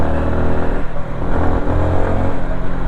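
Yamaha MT-125 motorcycle engine held steadily around 5,000 to 6,000 rpm, a loud, continuous buzzing drone with slight rises and falls, recorded close while riding on the road.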